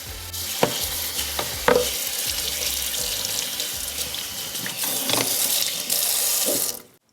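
A mandoline slicer is rinsed under a running kitchen tap, the water gushing steadily with a few knocks and clatters of the plastic against the sink before the flow stops.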